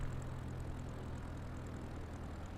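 Propeller plane in MS Flight Simulator on a windy approach, its engine a steady, low droning hum that holds constant and sounds muffled and fairly quiet, with no speech over it.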